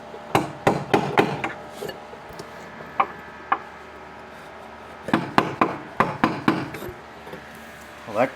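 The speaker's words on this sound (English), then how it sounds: "Now I'll beat that washer down." A washer is hammered down onto an upper A-arm bushing on a Saab 900 front end, with sharp metallic hammer strikes close by, first in a quick cluster, then a few spaced blows, then another rapid series.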